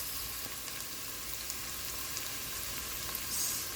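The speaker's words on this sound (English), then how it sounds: "you can put in your chopped tomatoes" Chopped tomatoes and onion frying in a pan, a steady close hiss and sizzle with a faint stir near the end, no voices.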